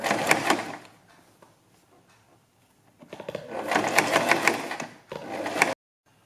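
A sewing machine stitches piping onto a printed kurti neckline in two bursts of rapid, even mechanical whirring, close and fairly loud, with a quiet pause between them and an abrupt stop at the end.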